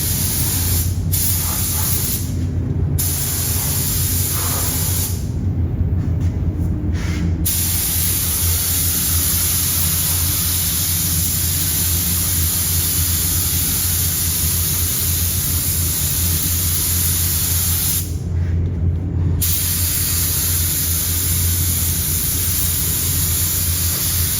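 Sealer sprayed inside the trunk of a 1970 Chevelle, a loud, close, steady rushing hiss from a spray gun that runs almost unbroken, with a few short dips in the high hiss and no talking.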